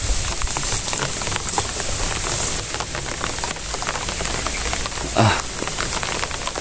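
Heavy rain pours down steadily on a surface, a dense continuous hiss with no talk, one louder splash near the end.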